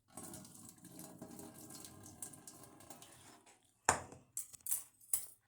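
Water pours and drains into a kitchen sink as food is strained, a steady rushing splash for about three seconds, then sharp clinks and drips from handling the strainer, no talking.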